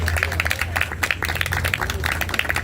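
An audience at a literary event applauds, rapid dense clapping over a low background hum, sustained throughout.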